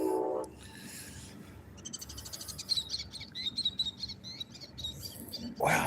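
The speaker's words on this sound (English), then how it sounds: "That was a very noisy bird." A loud bird calling close by on a fishing dock, with rapid repeated shrill chirps and trills running through most of the stretch over light outdoor background noise.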